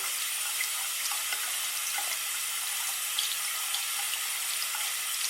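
Tap water runs steadily over a scratched CD or DVD game disc being rinsed and sanded with abrasive paper, a constant close hiss and splash of water with no voices.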